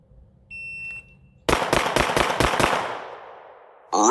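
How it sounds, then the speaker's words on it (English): A Kimber 2K11 Pro pistol fired at an outdoor range, five sharp, loud shots in quick succession after a brief electronic beep, with ringing decay and another shot starting at the end. "We got the Kimber 2K11 Pro. That's all I'm shooting today."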